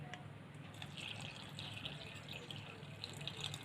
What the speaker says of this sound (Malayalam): ഇതിലേക്ക് വെള്ളം ഒഴിച്ചിട്ട് ഇത് നന്നായിട്ട് കലക്കിയെടുക്കാം